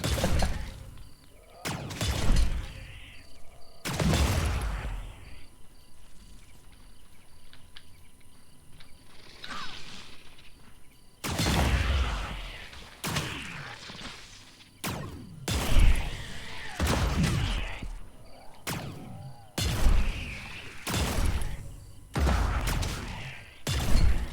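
Survivors fire guns at creatures in the survival game Stranded Alien Dawn at night, sharp loud shots in scattered bursts over quieter creature sounds and ambience.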